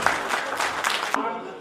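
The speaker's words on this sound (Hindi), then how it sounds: "जोरदार तालियां।" Audience clapping at a Hindi poetry anthology launch event, a dense burst of applause with sharp individual claps that stops abruptly, a voice audible over it.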